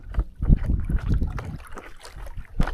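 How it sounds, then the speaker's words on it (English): Canoe paddle strokes dipping and pulling through lake water on a windy day along a shoreline, a series of soft, close splashes and swishes in an uneven rhythm, with gusty wind buffeting the microphone. "Take happy little paddle strokes."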